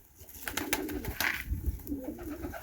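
Pigeons kept by a fancier in Chornobai coo close by in low, repeated rolling calls, with some light rustling and clatter around them.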